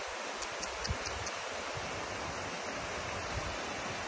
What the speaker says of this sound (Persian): این رودخونه ای از نمک، آب شوری که از اینجا میاد